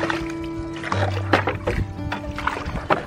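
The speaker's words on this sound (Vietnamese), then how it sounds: "Đây là đoàn người đang chèo thuyền ở lượt đi" Oars dipping and splashing as a group of people row boats across a shallow lake in a scenic wetland, with steady nearby strokes and water gurgles over a background hum, no clear talk.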